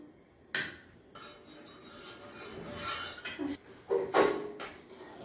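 A spoon scraping and clinking against a plate while ghee is spread over it to grease it in a home kitchen before sheera is set, giving several sharp, close metallic taps and scrapes with no voice.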